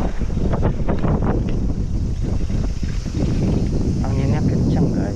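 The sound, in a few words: strong wind blowing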